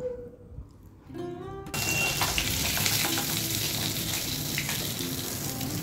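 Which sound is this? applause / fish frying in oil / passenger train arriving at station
fish frying in oil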